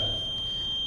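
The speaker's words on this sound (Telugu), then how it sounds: "ఈ బీప్ సౌండ్ వస్తేనే ఓటు పడినట్టు లెక్క." An electronic voting machine gives a steady, continuous high-pitched beep confirming a cast vote. It sounds close and clear, holding unbroken for the whole moment.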